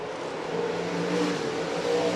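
Stock cars revving through a heat race at Rapid Speedway, a steady loud mid-pitched engine roar that swells slightly as the field passes, with no voices.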